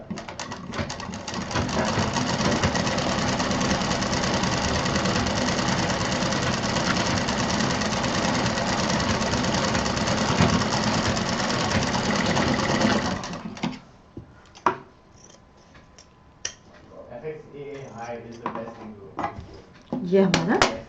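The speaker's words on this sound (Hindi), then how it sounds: "अब इधर का भी सिल देते हैं।" Sewing machine stitching a fabric baby doll bag in one long, steady run, loud and close, then stopping; afterward come handling clatter and a voice speaking.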